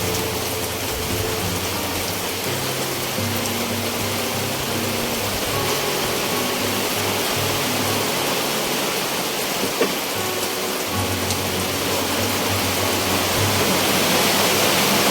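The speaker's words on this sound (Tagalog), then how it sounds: "Pasensya na mga kabukid sa ingay kasi malakas yung ulan." Heavy rain pours in a loud, steady roar that fills the whole stretch during a tinolang manok cooking session, with a low hum beneath and no voices.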